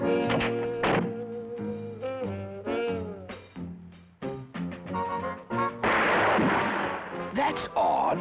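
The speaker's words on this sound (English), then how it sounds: "I'll use this gun silencer" A cartoon gunshot fired through a gun silencer lands as a muffled thunk amid bouncy animated-series music and tones, with a brief noisy burst near the end.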